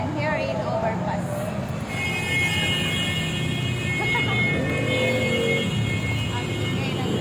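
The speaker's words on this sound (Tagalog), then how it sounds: "Ang ingay ng sasakyan." Steady roar of traffic passing beneath an overpass in the evening, with engines humming and rising and falling continuously, close and loud, with speech over it.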